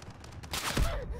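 Sniper gunfire in the Delta Force Mobile video game: a short run of muffled shots followed by one sharp, heavier crack that rings out briefly.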